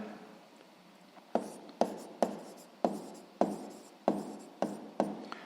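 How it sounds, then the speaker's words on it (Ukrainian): A pen writes on paper while a math exercise is worked out, giving a string of about eight sharp, evenly spaced scratchy strokes up close, starting after a quiet second. "Записуємо."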